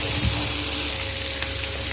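Fish pieces frying in oil in a pan for a Kerala-style fish fry, a steady dense sizzle that holds close and even throughout.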